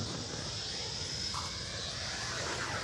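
An Avios Kobuz SZD-21 RC glider with a 2200mm wingspan, motor at throttle on its maiden flight, a steady airborne whine and rushing wind holding evenly throughout.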